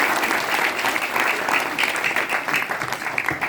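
Worshippers gathered at a temple clap together for a man named Madesh, a sustained, moderately loud round of crowd applause with slight swells in intensity.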